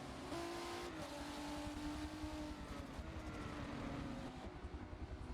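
An Audrain race car at speed on the Brands Hatch circuit, a loud, continuous engine roar with sustained tonal harmonics that slide gradually in pitch as it accelerates and lifts off, heard close and alone without talk.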